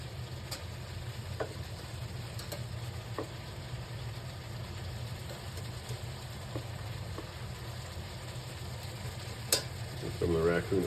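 Raccoon meat and onions simmering in a pan, a steady soft bubbling and sizzle that holds evenly at close range, with a few light stirring clinks and a faint steady hum under it.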